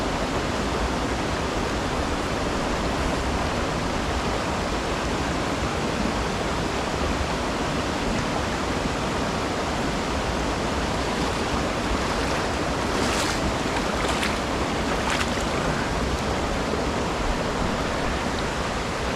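The Rapidan River's current rushes steadily over a trout stream's rocks, a loud, unbroken wash of water that fills the whole stretch with no voices.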